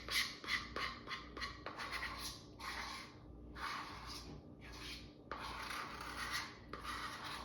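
Sticky cookie mixture made from Optavia fuelings is scraped out of a bowl in a series of short, close rasping strokes separated by brief pauses.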